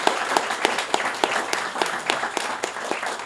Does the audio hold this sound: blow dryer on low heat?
no